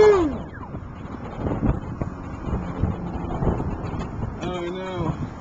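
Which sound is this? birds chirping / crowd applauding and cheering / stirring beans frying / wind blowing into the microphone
wind blowing into the microphone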